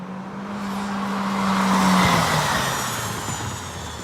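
A Honda Civic Type R fitted with Orbis electric in-wheel motors accelerates past, its tone sliding and then swelling loudly at the midpoint with some tire noise before fading away.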